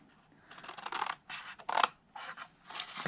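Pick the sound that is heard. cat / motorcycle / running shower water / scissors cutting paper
scissors cutting paper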